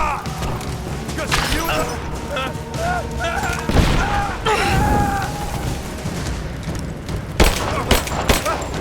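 Enemy gunfire in Rise of the Tomb Raider, with bursts of shots and heavy booms amid shouting voices and chaotic background noise.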